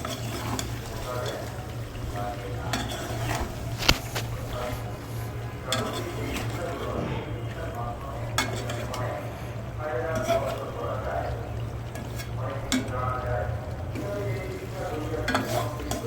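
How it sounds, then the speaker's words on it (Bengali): Chicken curry with spices being stirred in a pot, a steady soft scraping and sizzle with a constant low hum underneath, continuing throughout alongside occasional speech. "এটাকে ভালোভাবে নাড়িয়ে নিচ্ছি।"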